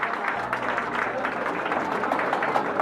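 A seated audience gives a speaker a steady round of applause as he is welcomed on stage at a student gathering, with dense, continuous clapping and a low hum underneath throughout.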